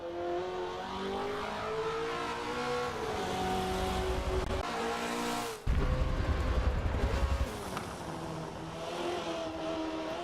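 A Mazda race car engine in a racing video game revs high and shifts through gears, the whine dropping and climbing again with a brief tire squeal, loud and continuous with no talking.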